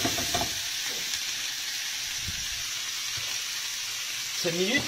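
Cabbage and bacon lardons sauté in a pan with a constant bright hiss of frying, close up, while a voice talks briefly at the start and end.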